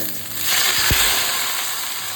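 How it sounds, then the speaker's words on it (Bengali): Chopped ingredients for a paneer dish fry lightly in hot oil, a close, steady sizzle with a soft stirring knock partway through. "একটু হালকা ভেজে নিতে হবে।"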